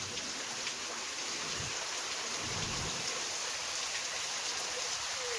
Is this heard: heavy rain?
yes